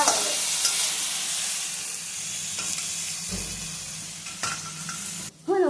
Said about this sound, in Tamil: இதையும் சேர்த்து இப்போ நல்லா வதக்கலாம்.